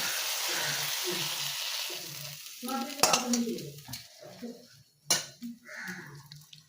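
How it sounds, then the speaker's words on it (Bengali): Duck egg curry being poured from a pan onto a plate, with scraping spoon and metal pot clatter over a faint sizzle, close and moderately loud, in short bursts. "এবার ডিমের কালিয়াটা আমি থালার মধ্যে ঢেলে দিচ্ছি"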